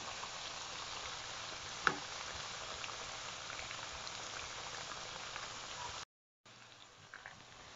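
Zucchini slices frying in a pan of oil: a steady, fairly quiet crackling sizzle with faint pops, briefly cutting out near the end before resuming.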